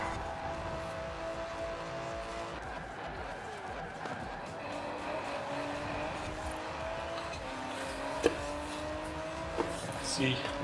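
Engine of a 2019 Aston Martin DB SL in Forza Horizon 4 holds a steady, sustained drone through a race, with shifting tones and a couple of sharp knocks near the end, as someone talks over it.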